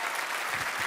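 Dense, continuous audience applause at a mind-reading show, steady and fairly loud with no pauses over a brief moment.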